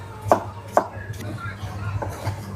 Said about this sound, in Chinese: 一缕一缕的给它切成这种条，一条一条的这种。